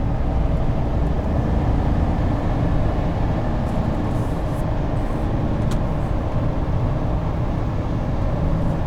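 A 2020 GMC Sierra AT4 pickup with a 6.2 V8 and a 10-speed automatic cruises along, heard from inside as a loud, steady low drone of engine and road noise.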